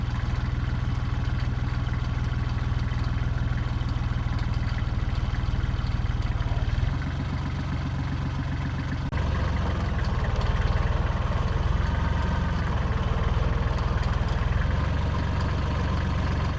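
A tractor with front end loader forks rolling a pine log up ramps onto a trailer, its diesel engine droning steadily and close, with a deep low rumble that shifts slightly as the load is worked.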